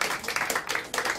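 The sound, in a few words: audience clapping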